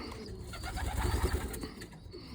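Young pigeons cooing in a loft, being moved into a competition box: soft, low, rolling coos pulsing steadily near at hand, swelling in the middle, with some faint rustling and chirps mixed in.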